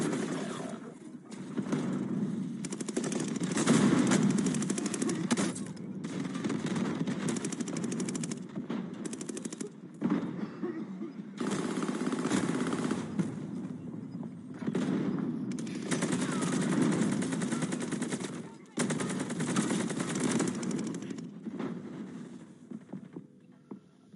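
Sustained automatic gunfire with incendiary rounds in DayZ, long rattling bursts broken by brief pauses, loud and continuous across the stretch.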